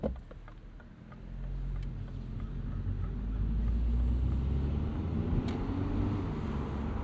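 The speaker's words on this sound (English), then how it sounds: "Even with the top down, I mean, really all you hear is turbo noise." A 2025 Mini Cooper S Convertible with the B48 turbo engine, driven with the top down, gives a steady low rumble that swells and holds, with faint turbo whoosh over road and wind noise.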